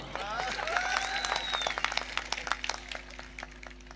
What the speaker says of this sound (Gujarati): અરે ભાઈ કીર્તિદાન ને તાળીઓથી વધાવો.